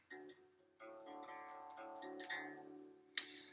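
Clean guitar picking two notes at a time across the bottom three strings, moving up and back down in an even alternating rhythm, close and fairly quiet with a sharp final pluck.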